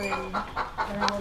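Hens on an organic farm in Mexico give a few soft, close clucks in a steady rhythm while nesting in soft material, with a faint background hum.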